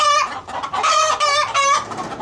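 Chicken clucking, a repeated series of close, loud hen-like calls with a crowing quality, heard alone with no talking.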